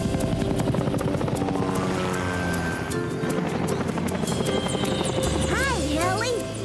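A cartoon helicopter takes off, its rotor thumping rapidly and steadily with a rising engine whine, loud and close, while voices and music play over it.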